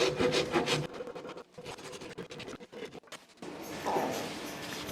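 A rasp works a red oak bow handle, with close, scratchy filing strokes against the wood in an uneven series, a brief pause partway through, then a denser rubbing stretch toward the end.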